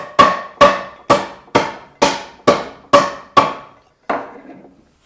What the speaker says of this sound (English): I can just pass my saw down until I reach the bottom of the rabbet.